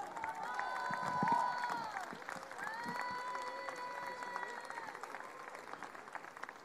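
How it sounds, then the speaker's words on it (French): Applause from an audience at a Solidarité Sida charity gala honouring Elton John, a steady wash of clapping under sustained musical tones and crowd noise, fairly loud at first and settling into an even roar. "on peut vous applaudir"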